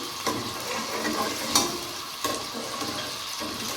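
Garlic sizzles and crackles in hot oil, a steady dense frying hiss with a few sharp pops and stirring clicks.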